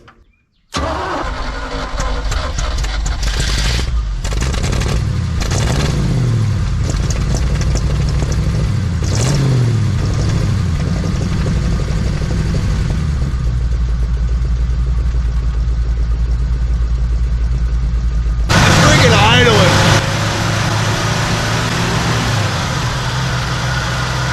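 A 1966 Chevy one-ton truck that sat for fifteen years cranks briefly and fires up, then settles into a loud, steady idle close by, with a short rise in revs near the end.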